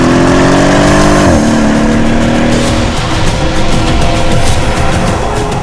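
A Mercedes-AMG 5.5-liter bi-turbo V8 roars loudly and close, its pitch climbing, dropping briefly at a gear change, then rising again before settling into a dense, rough growl.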